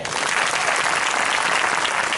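A church congregation claps together during an Odia sermon, a dense, loud, steady burst of applause throughout with no voices standing out.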